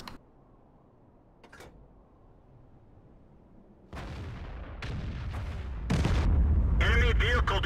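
Artillery fire in a tank video game: after a quiet stretch, heavy booming shots and rumbling blasts arrive and build into a loud, dense barrage, with game sound effects layered on top.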